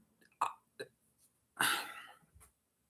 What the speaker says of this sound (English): Sorry, burping.